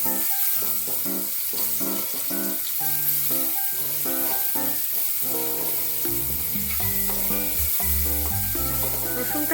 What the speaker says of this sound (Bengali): এবার আলু ভাজার তেলের মধ্যেই রসুন বাটা দিয়ে দেব। দিয়ে রসুনটাকে কিছুক্ষণ ভেজে নেব।